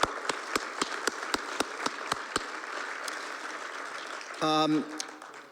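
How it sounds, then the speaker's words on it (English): Audience applause at a Y's Men gathering fills the room as a steady wash, with one sharp, regular clap standing out near the front early on. The applause fades and a voice speaks briefly near the end. "So I would like to ask you to give the applause"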